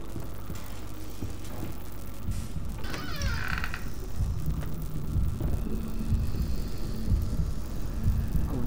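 A steady, throbbing heartbeat effect from the video game Bendy and the Ink Machine pulses low under a dense droning ambience with mechanical clanks, with no talking.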